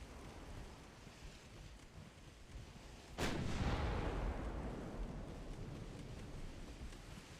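A battleship's heavy artillery fires in a naval video game. A single sharp boom breaks through steady wind and ocean-surf ambience, then rolls off into a long fading rumble.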